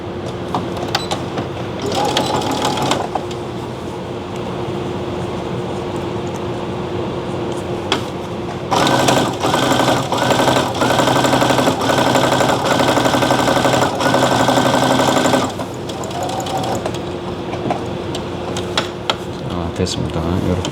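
A sewing machine stitches a fabric pouch in steady, continuous motor bursts, a longer run in the middle and shorter ones before it, with background hum and occasional voice around it.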